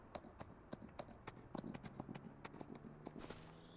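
Horse hooves clop at a steady walking pace in a farming game, crisp evenly spaced taps close by over a low ambient hum, with no talking.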